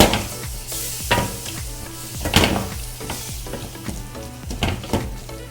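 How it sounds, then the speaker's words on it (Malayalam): Paste of ground pepper, cumin, fennel and onion sizzling in a pan as it is sautéed for crab roast curry, with steady frying hiss and repeated scraping stirs of a spoon, close and clear without talk. "ഈ സമയത്ത് നമ്മൾ ആദ്യം അരച്ചു വച്ചിരുന്ന കുരുമുളക്, ജീരകം, പെരുംജീരകം, ഉള്ളി, ഇത് മൂന്നും കൂടി അരച്ചതിനെയും കൂടി അതിൻ്റെ കൂടെ ചേർത്ത് വഴറ്റണം."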